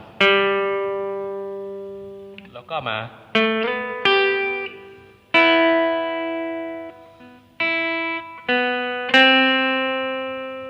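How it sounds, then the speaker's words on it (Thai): An acoustic guitar picks out single, ringing notes one after another, each sustaining and fading, in a slow melodic solo intro line. "เสียงโซโล่มั นก็จะเป็นอย่างนี้ครับ"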